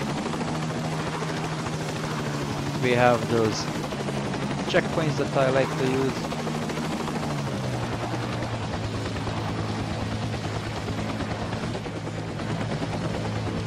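The AH Air Cobra attack helicopter in a video game gives a constant loud rotor and engine drone throughout, while someone talks over it for a few seconds.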